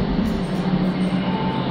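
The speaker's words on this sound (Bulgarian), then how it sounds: "и влако ще минава от тук." Train rolling past in Lyon, France, a steady loud rumble with rail noise holding throughout, close by and without speech.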